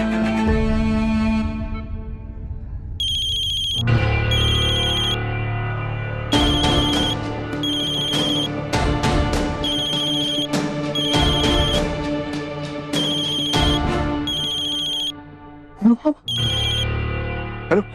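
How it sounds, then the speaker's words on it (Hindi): A phone rings repeatedly in bursts of electronic tones between pauses during a TV drama scene, with dialogue around the rings. "उसने मेरा फोन नहीं उठाया, पर नवाब का फोन जरूर उठाया."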